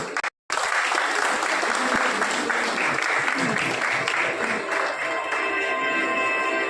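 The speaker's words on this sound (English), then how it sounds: "applause for them, please" An audience at a college valedictory session applauds competition winners, a dense, steady wash of clapping from a large crowd that runs loud throughout after a brief gap at the start.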